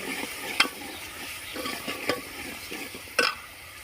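Chili powder being stirred into a sizzling tempering in a pan on a rural clay stove, with faint continuous frying hiss and a few sharp metallic scrapes of the spoon against the pan.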